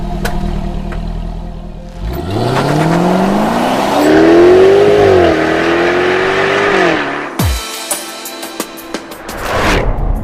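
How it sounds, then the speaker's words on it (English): Supercharged 5-litre V8 of a 2020 Jaguar F-Type R revving hard: a loud, close roar climbs in pitch, holds high for a few seconds and drops sharply, followed by crackling pops and bangs. "This is the big dog, the V8R. 5 litre engine, supercharged,"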